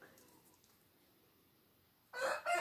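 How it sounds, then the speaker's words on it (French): A rooster crows in a garden, a loud, fairly close call that breaks in suddenly after a quiet stretch of soft background hush. "nous avons le chant du coq qui nous accompagne"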